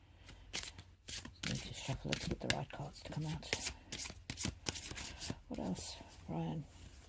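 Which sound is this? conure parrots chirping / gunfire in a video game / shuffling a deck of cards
shuffling a deck of cards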